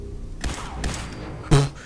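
Gunfire in the Fallout 4 video game: a few sharp, punchy shots spaced unevenly, the last one loudest and followed by a short ringing tail, with no talking over them.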